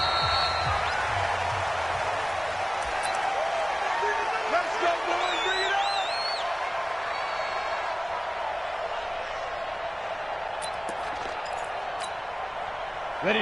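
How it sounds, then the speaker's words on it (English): A stadium crowd roars steadily at a 2021 NFL game between the Pittsburgh Steelers and the Cincinnati Bengals, a dense continuous wash of cheering and whoops with a commentator's voice over it and a few sharp whistles. "This crowd is ready as their guys get set to match up between the Pittsburgh Steelers and the Cincinnati Bengals."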